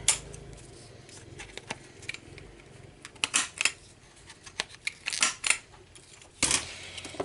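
Scissors snip through paper for an Easter basket craft in a series of irregular crisp cuts, with soft rustling and handling noises between them; no talking.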